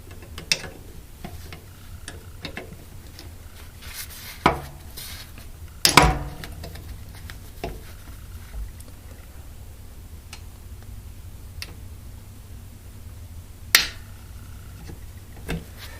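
The manual window regulator of a 2006 Ford Focus ZX3 is spun by hand, giving scattered close mechanical clicks and ratcheting ticks with a few sharper knocks over a quiet background, without speech.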